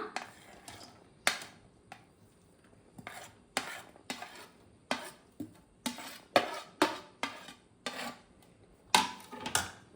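Chopped ingredients tipped and scraped into a mixing bowl for a crispy malai bread toast, with a series of sharp clinks and taps from a spoon against the bowl, irregular and close, with no talk.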